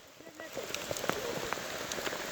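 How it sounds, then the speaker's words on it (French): Heavy rain pours steadily around a cyclist riding through a downpour, a dense hiss of drops beating on surfaces with scattered sharper splatters throughout. "Je pensais pas qu'il pouvait pleuvoir plus que tout à l'heure, mais en fait carrément si."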